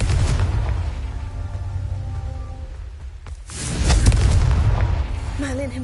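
Confringo blasting spell from the Hogwarts Legacy video game, a loud booming blast that swells and then fades, another heavy rumbling burst following after a brief lull, with game music and effects layered underneath.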